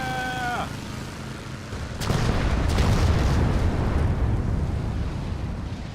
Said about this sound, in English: You know it's a good explosion when it drops your frame rate